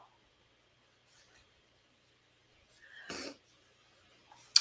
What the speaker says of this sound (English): Hang on, I got to sneeze